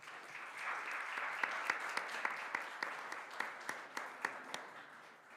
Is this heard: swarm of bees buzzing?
no